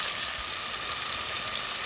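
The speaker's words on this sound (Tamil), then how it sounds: "இதுக்கப்புறம் நம்ம தக்காளி போட்டு வதக்க போகிறோம்." Tomatoes and onions sauté in a pan for a salmon and mango fish curry, giving a steady, even hiss of frying at moderate volume with no break.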